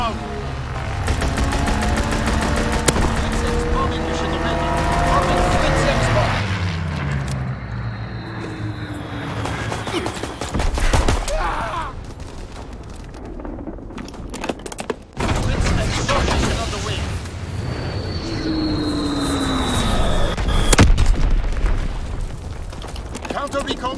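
Call of Duty WW2 multiplayer on the Gibraltar map, where a strafing run brings rolling bursts of gunfire, booms and aircraft roars, mixed with game announcer voice lines and continuous battle noise.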